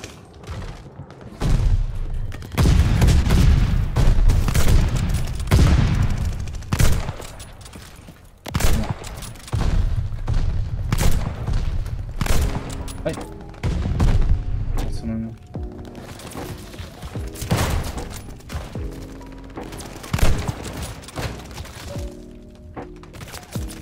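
Video game gunfire from a semi-automatic 12-gauge shotgun, heavy booming shots in bursts and clusters with rapid follow-up blasts and impacts, loud and close, while a player talks excitedly over much of the action.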